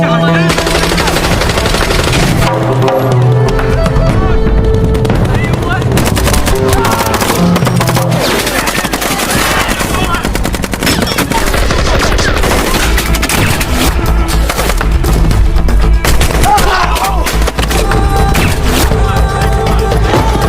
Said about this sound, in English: The enemy managed to take a strategic position, and a firefight ensued.